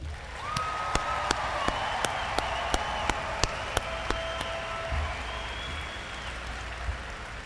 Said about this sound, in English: Let's start by giving our graduates a big round of applause.